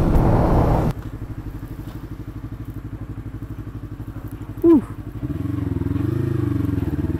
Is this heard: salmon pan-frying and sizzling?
no